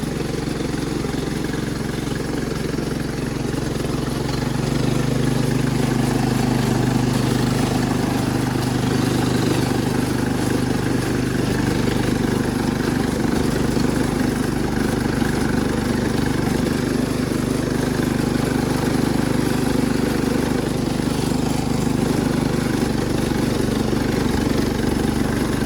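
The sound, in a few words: Cub Cadet 1250 hydro tractor engine running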